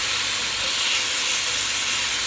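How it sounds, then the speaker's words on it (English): Pot roast meat searing in a pan on the stovetop: a loud, continuous broadband sizzle and hiss, steady and close, with no talk over it. "Just flip these over. Get them nice and seared on all sides."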